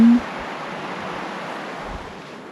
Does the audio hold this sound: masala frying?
no